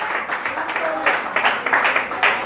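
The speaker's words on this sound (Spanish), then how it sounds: "Dale un fuerte aplauso a Dios en esta hora." A church congregation claps during an evangelistic service, brief uneven bursts of applause with some crowd voices mixed in.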